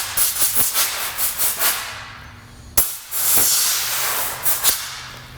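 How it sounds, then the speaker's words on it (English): Compressed air blasts into the roof rail molding tracks of a Honda Odyssey, giving loud broadband hissing bursts in a quick series of short puffs, then a brief pause and a longer sustained blow with a few more spurts, close and without talk. "I'm also going to hit that with a little bit of compressed air."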